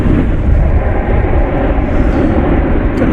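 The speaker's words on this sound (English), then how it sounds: "Got another 777 coming in, this one from Miami, another domestic 777" A domestic Boeing 777 airliner arriving at DFW Airport roars as a loud, continuous broadband rumble, steady for a few seconds with no voices.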